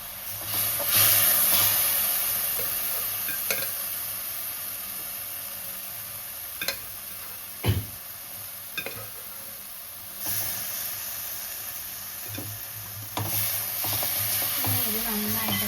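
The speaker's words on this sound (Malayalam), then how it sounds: "ഇത് നന്നായിട്ട് ഇളക്കി ഫ്രൈ ആക്കിയെടുക്കാം." Cooked beef frying in a hot pan, sizzling steadily throughout as it is stirred, with occasional scraping clinks of the spoon against the pan and a faint low background hum.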